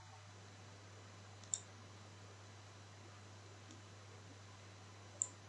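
Two faint, crisp computer mouse clicks about four seconds apart, isolated over a low steady electrical hum, with no talking.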